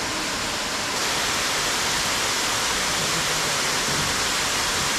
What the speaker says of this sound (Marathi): वॉटरफॉलचा मस्त आवाज येतो तर आम्ही एन्जॉय करतो